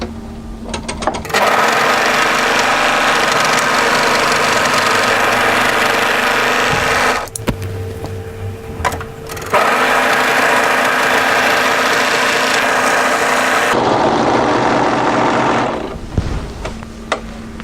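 A sewing machine runs steadily while stitching the side seams of a camisole, a close whirring hum in long continuous runs broken by brief stops.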